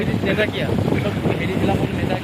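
Wind buffets the microphone at the Nimati river ferry ghat on the way to Majuli, a steady rumbling gust noise with a voice speaking over it.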